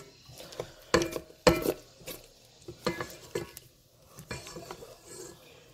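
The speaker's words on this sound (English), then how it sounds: "Now let me just give it a good mix" A utensil stirs buffalo dip ingredients in a dish, a series of close clinks, scrapes and knocks in an uneven rhythm, loudest early and then softer.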